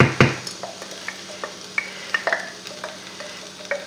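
Herbs and cream stirred in a hot pan, with a spoon scraping and tapping in an irregular rhythm over a soft close sizzle.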